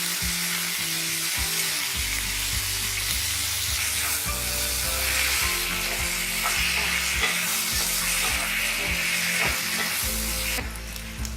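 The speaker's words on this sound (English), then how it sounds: "Roast the tomatoes until they become soft." Chopped tomatoes with red chilies and salt fry in a pan, a loud steady sizzle with occasional stirring scrapes throughout, no talking.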